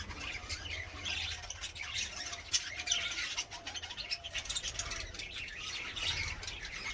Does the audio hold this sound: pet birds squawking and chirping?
yes